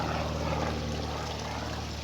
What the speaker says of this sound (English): excuse the aircraft